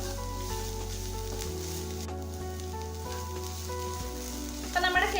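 Shredded cabbage thoran, cooked Kerala sadya style, stir-fries in a pan as the flame drops from high to medium. It makes a continuous, even sizzle, with a quick clatter of stirring near the end.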